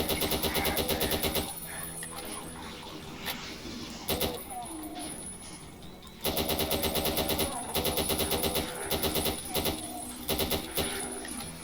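Gunfire in Doom played with the Vendetta mod, loud bursts of rapid automatic shots in long runs broken by short gaps, over game noise, with a voice talking now and then.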